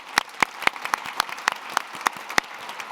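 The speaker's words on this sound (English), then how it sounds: "So please join me in giving a huge round of applause to both teams." Applause for both teams at an Ontario Chamber of Commerce economic report launch: a small group's sparse, distinct claps ringing out in an uneven rhythm, close and fairly clear over a quiet room.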